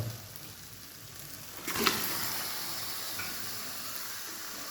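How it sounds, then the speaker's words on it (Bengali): Chicken pieces sizzle in hot oil as they are stirred into a cooked-down masala for a Kerala-style chicken curry. The sizzle is steady and close, with a brief louder burst of hiss and stirring partway through. "মাংসটাকে মশলার মধ্যে ভালো করে মিশিয়ে নেব"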